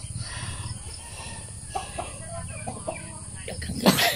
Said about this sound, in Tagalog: Ang daming manok ni Papa, oh.